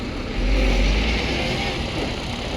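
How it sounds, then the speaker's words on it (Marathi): A Sangitam Travels bus on a Leyland chassis with Veera bodywork pulls away at night, its engine rumbling low and loud with a brief surge early on, then a steady drone. "बस निघत आहे आपली"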